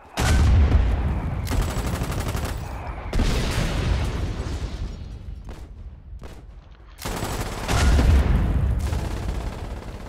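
Heavy artillery shelling mixed with gunfire in the war game Foxhole, loud booming bursts and rattling shots in continuous overlapping waves, with dense rumbling between impacts.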